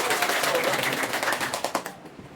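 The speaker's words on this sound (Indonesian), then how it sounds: "tepuk tangan untuk kita semua" A classroom group claps hands together during a primary lesson, a dense burst of many overlapping claps that rises and then tapers off near the end.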